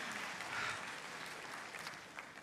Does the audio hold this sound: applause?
yes